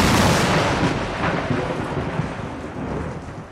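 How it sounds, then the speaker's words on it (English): Thunder from an electrical storm plays as a stereo high-fidelity demo record sound effect, a loud rolling rumble that is heaviest at the start and then slowly fades as it rumbles on, with no voices. "It was during an electrical storm. thunder, the lightning, the clouds gathering together,"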